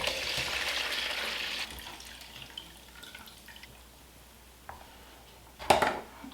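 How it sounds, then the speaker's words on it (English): Fermented cayenne peppers and their brine are poured into a colander set over a bowl, a soft splashing trickle at first that tapers off, ending with a brief clatter. "you're going to go ahead and pour it into a colander with a bowl underneath"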